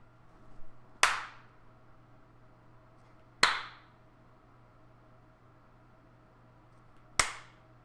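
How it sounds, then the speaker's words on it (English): Three slow, sharp hand claps, spaced a few seconds apart, in a quiet room with faint background hum. "I'm just clapping very slowly."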